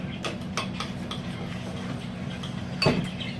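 Homemade slime being mixed with black glitter glue in a bowl, giving soft intermittent scraping and light clinking taps, with one sharper clink near the end over a steady low hum.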